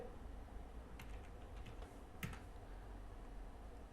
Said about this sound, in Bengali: এই কোডটা আমাদের টাইপ করে দিতে হবে